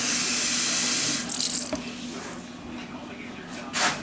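A can of water is poured into a baking pan with turkey wings and soup, a loud rushing splash for about a second that then fades into softer trickling and a brief clatter.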